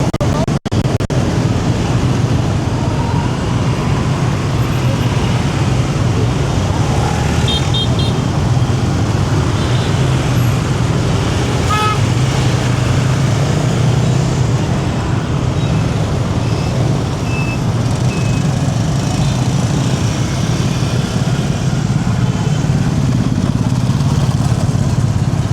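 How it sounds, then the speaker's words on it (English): Motorbike traffic on a busy street in Saigon, a continuous loud drone of many small engines passing nearby, with occasional horn beeps and buzzing rising and fading through the whole stretch. "It's fun to see everyone else on the motorbikes here."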